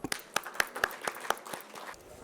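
An audience at a conference on e-commerce applauds as a speaker is called to the stage; a faint, sparse scattering of handclaps with irregular sharp claps, heard from a distance over a few seconds.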